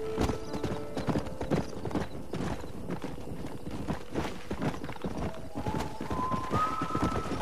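In the Red Dead Redemption game on Xbox 360, a horse gallops with fast, busy hoofbeats that are close and continuous, along with a brief whinny and a rising musical tone near the end.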